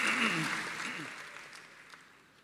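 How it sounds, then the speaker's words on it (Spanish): Church congregation clapping together in applause, a dense wash of claps that is loud at first and gradually tapers off, with a voice briefly heard over the start. "Un aplauso para esos trabajadores honrados y honestos."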